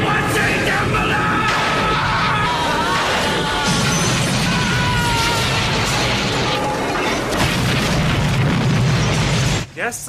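A loud, sustained rumbling blast with crashing debris and mechanical clatter, roaring continuously before cutting off abruptly near the end.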